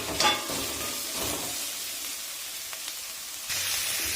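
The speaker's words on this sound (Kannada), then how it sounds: "ಈರುಳ್ಳಿ ಚೆನ್ನಾಗಿ ಫ್ರೈ ಮಾಡೋಣ. ಚೆನ್ನಾಗಿದು ಸ್ವಲ್ಪ ಬ್ರೌನ್ ಕಲರ್ ಫ್ರೈ ಆಗಬೇಕು. ಫ್ರೈ ಆಗ್ತಾ ಇದೆ." Onions with curry leaves frying in a pan for a mutton liver fry, a broad hissing sizzle that swells, eases, then flares again near the end, close by with a few faint stirring taps and no talk.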